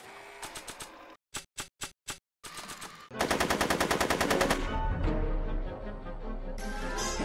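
Video-game gunfire from Back to the Future: The Game comes in short separate bursts and then a sustained rapid machine-gun rattle, loud and close, ending in a lower rumbling tail.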